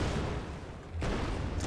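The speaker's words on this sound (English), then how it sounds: "every time I touch a cube, it'll play the explosion sound" An explosion sound effect from a video game, triggered when the player touches a cube: a loud, dense broadband roar that dips briefly, then surges again near the one-second mark and holds to the end.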